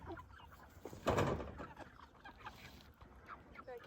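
Chickens cluck on a farm during chores with children, a mix of close and farther calls that stays steady, with one louder burst near the middle.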